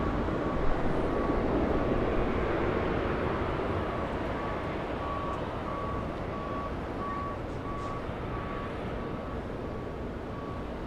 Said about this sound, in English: instead going for JetBlue Airways. That one heading to San Francisco, taking that scenic route